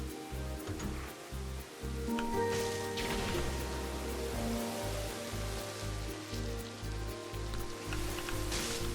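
Rain effect in the video game Planet Coaster, a soft, continuous hiss of falling rain mixed with tonal background game music that pulses rhythmically underneath.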